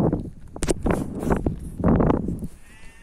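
A few close, strained bleats from goats come in short bursts, loud and overlapping, with little else around them.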